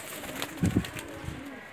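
A Salara pigeon coos in a short burst of two or three low, throaty notes, close by and fairly quiet, with no voices present.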